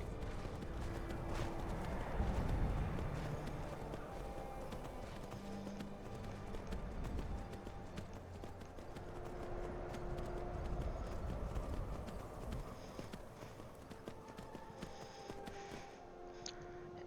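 Horse hooves clop steadily at a gallop in the video game Skyrim VR over a constant rumbling background, fairly close and continuous throughout.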